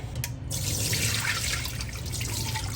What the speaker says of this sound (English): You want to get as much of that water out as possible, okay? Refill it.